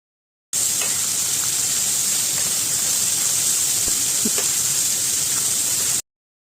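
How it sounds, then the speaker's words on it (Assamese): Chicken pieces fry with onions in a pan for a yoghurt chicken masala, giving a constant, even hiss of steam and sizzle from start to finish, with a few faint ticks over it. "এতিয়া আমি পিঁয়াজৰ সৈতে চিকেনখিনি ধুনীয়াকৈ মিহলাই 10 মিনিটমান ভাজিবলৈ দিম"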